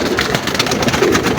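Kamangar pigeons in a home loft give low, soft coos close at hand, several throaty murmurs overlapping in a brief burst of cooing.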